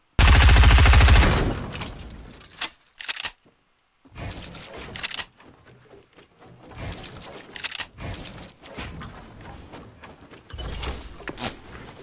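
SMG gunfire in Fortnite Battle Royale, several rapid bursts of close, loud automatic shots separated by short pauses, with a dense blast of fire at the start and again near the end.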